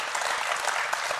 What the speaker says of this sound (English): Let's give Mike and Juan a huge round of applause